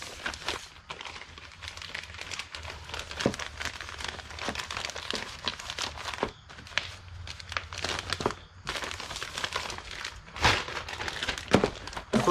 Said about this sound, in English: So I'm gonna put the hat in a poly bag.